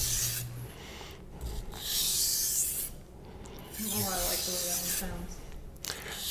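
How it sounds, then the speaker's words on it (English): A knife blade is stropped for burr removal after sharpening on whetstones, giving rhythmic gritty rubbing strokes in long sweeps with brief pauses between passes. The strokes are close and moderately loud, with faint talking in the background. "I'm going to do some like stropping for some burr removal"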